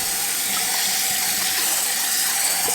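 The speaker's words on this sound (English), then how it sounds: "I'm going to turn on the water and let the water rinse the rice until the water runs clear." Tap water pours steadily from a faucet over rice in a strainer at a sink, an even, close hissing splash with no voices.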